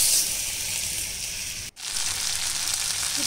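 Shrimp sizzle steadily in hot oil in a pan, a close, even frying hiss with a brief dropout partway through.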